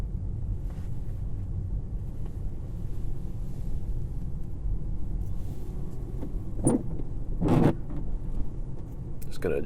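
A Tesla on winter tires drives through snow, its low steady road rumble and tire noise filling the cabin, with a couple of brief louder knocks or creaks near the end.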